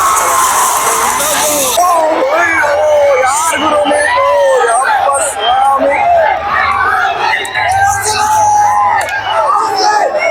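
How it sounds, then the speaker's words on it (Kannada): A crowd at an RCB cricket match screening cheers wildly, with loud, sustained shouting, whistles and yells layered over dense babble, surging several times throughout. "ಕ್ರೌಡ್ ಏನ್ ಹುಚ್ಚೆದ್ದಿದ್ದಾರೆ ಅಂದ್ರೆ ಕಡಿಯಕ್ಕಾಗ್ತಾ ಇಲ್ಲ ಅವರು"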